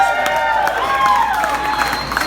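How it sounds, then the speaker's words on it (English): Wedding guests break into a steady round of applause and cheering for the groom, loud and continuous throughout, with a voice heard over the clapping. "let's just give a round of applause for Blake"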